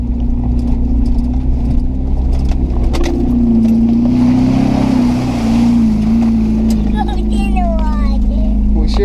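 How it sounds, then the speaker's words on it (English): A vehicle on a rough backwoods trail splashes through water, its loud engine droning steadily up close while water churns and sloshes around it and people talk over the noise. "We're about to go through the water."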